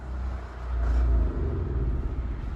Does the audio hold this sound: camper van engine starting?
yes